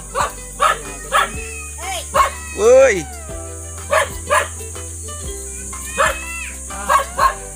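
Dogs bark repeatedly up close in short bursts, with a whine between barks and a person briefly calling out.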